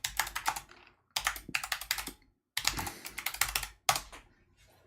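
Close, fast typing on a computer keyboard comes in four bursts of rapid key clicks separated by short pauses, ending in a few fainter taps. No one speaks.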